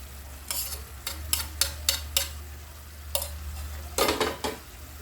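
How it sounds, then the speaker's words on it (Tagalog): A utensil scrapes and clinks against a pan while sweet and spicy chicken feet adobo with spring onion, green chili and calamansi simmers, several quick stirring strokes in a cluster, then a pause and a final busier flurry over a low hum. "Halo-haloin na lang yan, simmer for 5 minutes."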